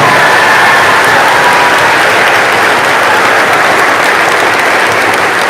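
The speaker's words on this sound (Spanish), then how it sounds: "Que se oiga ese aplauso." A church congregation gives a loud, unbroken burst of applause welcoming new members, a dense even roar of many hands close and full throughout with no speech.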